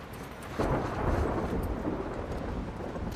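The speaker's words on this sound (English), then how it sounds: "Nice thunderstorm." Steady rain and low, rolling thunder fill a thunderstorm in the video game The Last of Us 2. The roar swells after a moment and stays broad and constant, with no voices.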